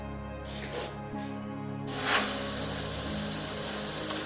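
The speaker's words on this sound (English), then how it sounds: "So I've got some smoke black in my airbrush" An airbrush spraying smoke black paint through polyester fiber fill hisses in short bursts, then sprays steadily in a continuous close, bright hiss.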